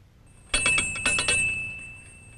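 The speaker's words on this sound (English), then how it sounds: "what to do if you're home alone and the doorbell rings" A doorbell in a Disney educational cartoon rings in a few quick, bright, clear chimes, loud and close, with no talking over it.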